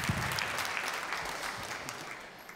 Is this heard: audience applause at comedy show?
yes